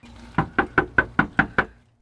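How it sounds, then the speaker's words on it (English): Knocking on a door while canvassing voters: seven sharp, evenly spaced raps close to the microphone, then silence. "they're knocking on doors to let voters know"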